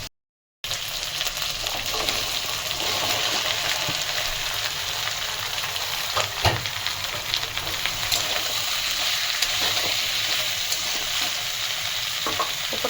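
Chopped vegetables with tomato and ginger paste fry in a pan for a spinach-stem curry, giving a steady, close sizzle with a faint crackle that runs unbroken after a brief silent start.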